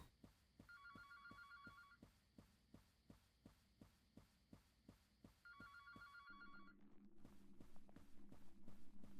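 Electronic telephone ringtone trilling in two bursts inside a video game, over a steady pulsing thump like a heartbeat and a low drone that swells toward the end; no one speaks.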